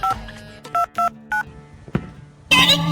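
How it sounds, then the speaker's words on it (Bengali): A cartoon telephone is dialed with a run of short electronic keypad tones in uneven rhythm, loud and close, ending in a burst of brighter ringing noise. "টোকা মাস্তানকে ফোন দিয়ে দেখি"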